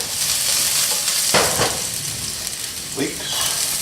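Garlic fries in sesame oil and olive oil with leeks in a pan, a constant close sizzle broken by a couple of louder stirring scrapes.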